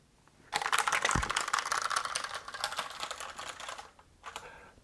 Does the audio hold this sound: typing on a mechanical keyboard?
yes